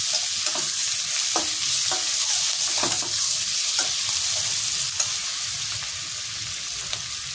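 Onion, garlic and eggs frying together in butter for a Hungarian chicken paprikash: a steady, dense sizzle runs throughout, punctuated by several sharp stirring scrapes and clicks close at hand.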